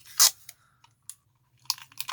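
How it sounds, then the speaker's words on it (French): A strip of adhesive tape pulled off a roll: a loud, short tearing rip, then a few smaller crackling tears close by, with near silence between them. "On va mettre un petit peu de scotch quand même là."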